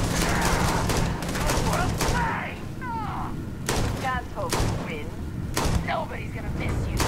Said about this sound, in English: Shooting through his leg.